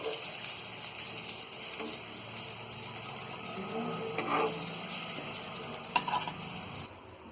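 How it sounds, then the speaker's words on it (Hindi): Paneer frying in leftover oil for paneer do pyaza gives a quiet, even sizzle with occasional light stirring clicks and a brief clank, fairly soft and continuous. "इसी बचे हुए तेल में हम ये पनीर को भी फ्राई कर लेंगे।"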